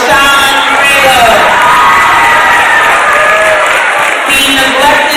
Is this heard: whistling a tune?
no